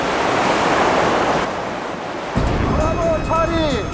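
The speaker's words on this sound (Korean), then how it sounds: "갑자기 파도가 높아지기 시작했다." Waves surge and wash loudly on the open sea off Gunsan at an underwater excavation site, with heavy wind buffeting the microphone and faint high whistling tones near the end.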